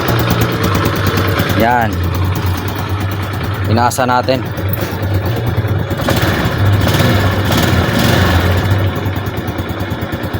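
A motor scooter's engine idles with a steady, loud drone and swells in a few brief revs. Someone talks over it nearby.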